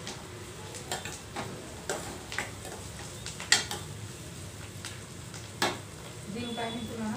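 Bitter gourd pieces fry in a pan, giving a steady soft sizzle with scattered clicks and taps of a spoon or utensil against the pan, close and moderately quiet.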